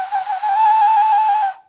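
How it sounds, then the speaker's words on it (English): A homemade whistle shaped like a small turtle gives one steady, loud, clear tone held for about a second and a half before cutting off. "But it's a whistle, so it creates a sound"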